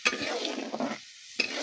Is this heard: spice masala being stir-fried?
yes